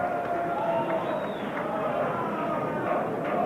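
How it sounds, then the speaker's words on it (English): Crowd reaction at the 1986 NFL Draft at the Marriott Marquis Hotel, a steady murmuring roar of many voices filling a large room, continuous and moderately loud throughout. "you can hear the crowd here at the Marriott Marquis Hotel"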